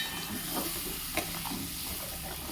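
Ginger, garlic, onion and green chilli paste frying in oil, giving a steady soft hiss and sizzle with faint stirring scrapes throughout.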